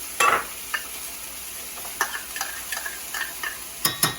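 Onions and carrots sauté in a pot for Guinness stew: a soft, even hiss broken by sharp spoon clicks and taps against the pot.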